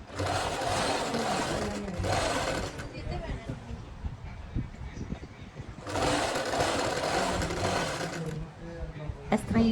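Sewing machine stitching lace onto the edge of a dupatta, running in loud bursts with pauses between them while someone talks over and between the runs.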